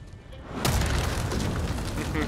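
Explosion in Ghost of Tsushima at a shipyard, a sudden broad boom that swells after a brief quiet moment and rumbles on loudly with no speech over it.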